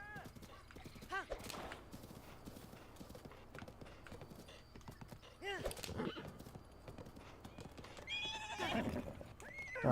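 A horse in Zelda Breath of the Wild neighs and whinnies with clopping hooves, the neighs rising at intervals over soft, steady hoofbeats and faint game sounds.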